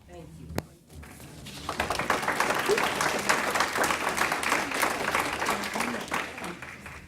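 People in a hearing room break into applause after a sharp knock, and the clapping builds into a steady, dense round that holds to the end. Voices can be heard faintly beneath it.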